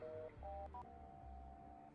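Unanswered phone call in the video game Do Not Feed The Monkeys 2099, a quiet electronic ring of repeated dial-tone style beeps that ends in a longer held tone over a low hum.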